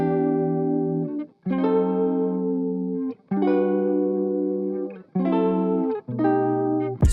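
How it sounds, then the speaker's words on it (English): Electric guitar chords ring out through heavy effects, several sustained strums with a shimmering, distorted wash, each chord held a second or two before the next. "Once we put the effects though, this is what it sounds like."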